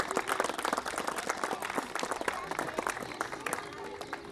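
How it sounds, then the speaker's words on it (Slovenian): An outdoor audience at a kindergarten road opening applauds a children's performance with lively, uneven clapping, individual claps standing out sharply at moderate level with faint voices underneath. "dajmo še en velik aplavz za ta simpatičen nastop"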